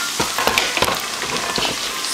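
Food frying in a pan while making a Puerto Rican jibarito sandwich, a steady close sizzle with sharp crackling pops and no talk.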